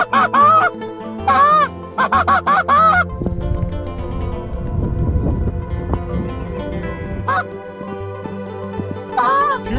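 A flock of migrating geese honks at Quills Lake, Saskatchewan, in loud bursts of overlapping calls near and far, broken by a stretch of rumbling wind noise and some talk.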